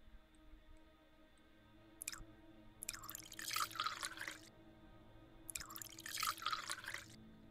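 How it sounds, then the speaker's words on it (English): Liquid pouring from the tea-pouring task in the Goose Goose Duck video game, two separate trickling bursts of several seconds each, close and moderately loud over a quiet background, with no speech. "I'm really pouring tea right now."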